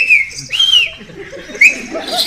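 A person whistles a few short, high, swooping notes, close and fairly loud, in separate bursts with quiet gaps between them.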